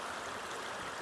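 Water rushes at high flow through a bazooka sluice set up for gold prospecting at Mammoth Bar, a steady, even hiss of flowing water with no breaks.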